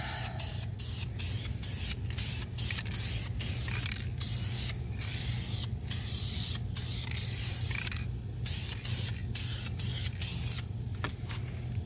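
An aerosol spray can hissing steadily up close while painting wheel spokes, broken by brief pauses as the nozzle is released and pressed again, over a low background hum.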